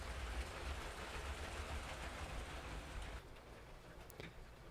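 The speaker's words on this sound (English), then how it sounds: "to have my freight train going around the Lego City here" Faint rumbling and rattling of a LEGO freight train rolling along plastic track, fading a little toward the end with a couple of light clicks.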